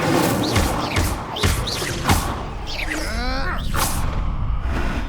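Spellcasting in Hogwarts Legacy, Levioso and Incendio, comes through as dense whooshes, thuds and magical sweeps layered over game combat noise and crowd-like shouts, loud and continuous, with a swirling tonal burst near the middle.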